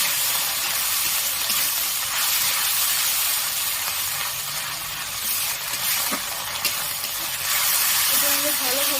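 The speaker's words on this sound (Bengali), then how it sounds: "এটা আমি ভালোভাবে কষিয়ে নেব যাতে আদা রসুনের গন্ধটা না থাকে।" Ginger, garlic and green chili paste fries in a pan for a katla fish curry, with a steady close sizzling hiss that runs throughout.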